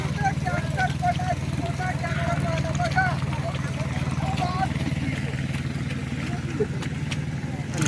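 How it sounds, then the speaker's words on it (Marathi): A tractor engine drones steadily in a farm field during planting work, a continuous low mechanical rumble with faint voices in the background. "ट्रॅक्टर पण आहे."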